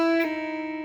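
A guitar pull-off leaves two strings ringing together in semi-dissonance, a sustained harmonic tone with a slight pluck partway through and a gentle wavering beat as it fades, heard alone.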